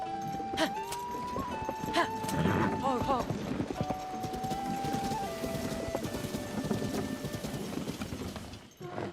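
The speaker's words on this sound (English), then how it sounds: "Let me bring my horsey." Link's horse in Tears of the Kingdom clops along in a quick hoof rhythm with a brief whinny, mixed with game music and chimes while a person talks over it.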